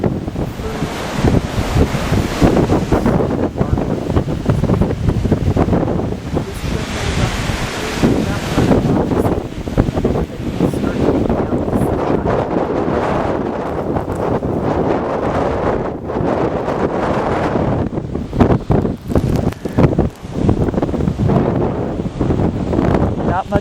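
Strong blizzard wind roars into the microphone in a loud, steady buffeting rush with gusty surges throughout, and no voices are heard.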